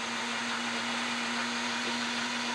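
A Vitamix blender runs at high speed grinding its contents, giving a steady, loud motor whir with a constant droning hum throughout and no talking.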